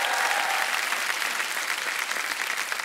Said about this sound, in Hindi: देखो ये तालियां इस बात का गवाह है।